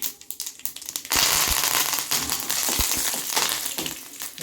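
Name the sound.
curry leaves added to hot oil with mustard seeds and urad dal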